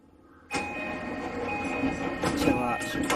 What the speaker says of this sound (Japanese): ドアが閉まります。ご注意ください。